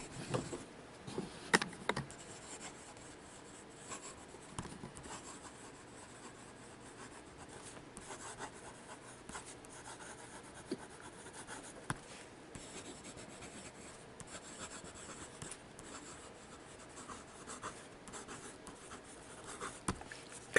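A Lamy Joy 1.5 mm calligraphy fountain pen writing on paper gives a steady, soft close-up scratch of nib strokes, with small taps and brief rustles breaking in now and then and no speech.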